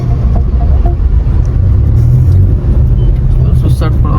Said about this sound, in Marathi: सुसाट पळवतोय आता गाडी आम्ही